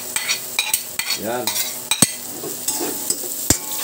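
Ginger, garlic, bird's eye chili and onion sauté in a pan for a tuna fish curry, soft sizzling under repeated sharp utensil taps and scrapes, with a brief spoken word.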